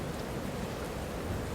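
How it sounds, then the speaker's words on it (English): Steady rain sound effect in an audiobook scene, a dense continuous hiss of pouring rain with no breaks, heard alone. "the clouds began pouring rain around them"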